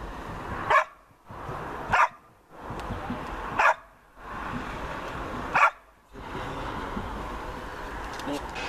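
A dog gives four sharp, evenly spaced barks on command during guard training, each bark separated by brief pauses over a faint background.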